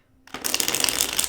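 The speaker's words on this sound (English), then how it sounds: "Starts shuffling her deck." A deck of cards is shuffled in one quick, crisp riffle that starts after a short near-silent pause, a close, dense flutter of cards lasting about a second.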